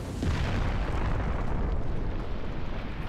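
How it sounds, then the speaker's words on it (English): An explosion in Resident Evil 4 erupts as a loud, rumbling boom whose low roar sustains and slowly decays across a few seconds, with no voices over it. "Cool guys, don't look at explosions."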